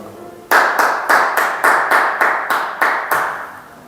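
Hands clapping in a sharp, steady rhythm, about eight or nine loud, close claps in quick succession, as youth group teams stand and clap together during a game at a youth worship service.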